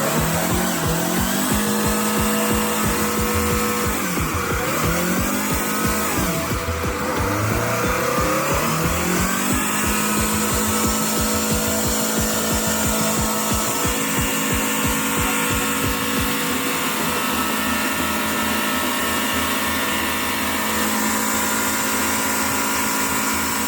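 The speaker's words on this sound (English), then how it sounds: "Watching the Oshkosh M1070 climb that slippery mountain in such treacherous conditions is jaw-dropping." An Oshkosh M1070 heavy truck labors up a slippery mountain slope, its engine roaring loud and steady with rising and falling revs as the tires spin and whine on the slick surface, with no voices.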